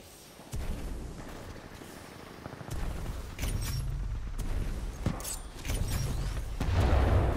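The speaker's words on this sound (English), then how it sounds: "Oh, frag grenade, damn it." Frag grenade blasts and gunfire in an online shooter game, heavy low booms and a rumbling barrage building in waves, sustained and loud through the whole stretch with no talk over it.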